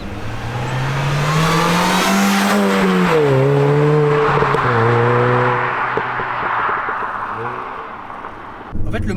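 Supercharged Mini Cooper S GP R53 engine revving up and down, with clear rising and falling harmonic tones across several throttle blips, loud and close, with a voice heard briefly alongside.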